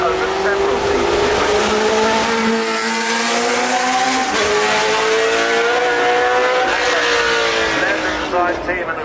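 A Hesketh 308 Formula 1 car's engine screams loudly at Goodwood Festival of Speed, its high-pitched note rising through the gears as it accelerates past, with a commentator talking over it.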